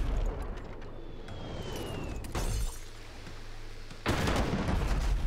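The acid mortar in Abandon Ship fires with loud, broadband blasts, one whooshing report in the middle and a sharper crack near the end, over a constant rumbling battle ambience.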